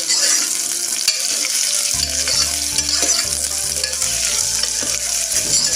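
Onions frying in a pan for a spicy dry chicken dish, a steady bright sizzle throughout with repeated low scraping and knocking of a spatula stirring through the pan, no voices.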